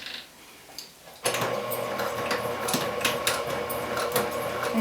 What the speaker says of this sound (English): And then you'll back stitch